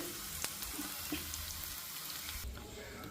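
A breakfast dish of flattened rice fries gently on a low flame, giving a soft, steady, faint sizzle with a few small crackles.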